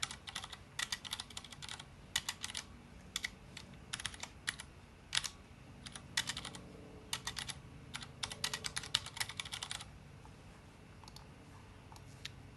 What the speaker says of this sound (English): And type the letter K for key signature. I will actually type this.